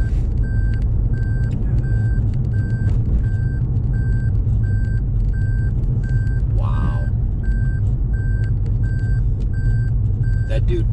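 A truck backing into a driveway sounds a loud, regular series of reversing beeps over a steady engine rumble, with a brief hiss partway through.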